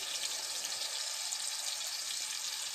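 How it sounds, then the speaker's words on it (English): A pork chop sears in a hot pan with a steady, bright hissing sizzle, close and even throughout with no talking. "I've got the second pork chop seared."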